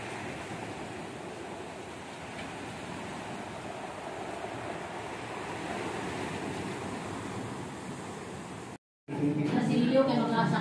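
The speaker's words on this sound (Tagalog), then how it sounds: "Maalon ng dagat." Rough sea waves wash in a steady, windy roar at a shore, with voices talking nearby at the end.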